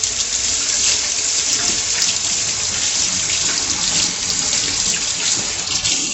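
Tap water runs steadily into a sink while hands are washed during holiday baking, a continuous close, even splashing hiss with no pauses or voices.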